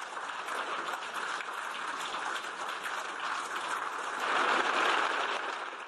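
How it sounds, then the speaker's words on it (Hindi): Sustained applause from the European Parliament chamber for Zelenskyy, a dense, steady clatter of many hands that swells louder near the end. "यूरोपियन नेताओं ने भी तालियों की गूंज से जेलेंस्की का जोश बढ़ा दिया"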